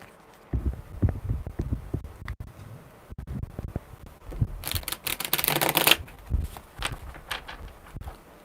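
Tarot cards are shuffled in a series of soft riffles and taps, with a dense, brighter burst of flicking in the middle and scattered handling sounds before and after.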